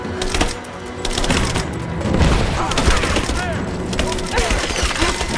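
Video game gunfire from Rise of the Tomb Raider: dense, rapid bursts of shots and impacts crackle close and loud throughout, with shouted voices over the firefight.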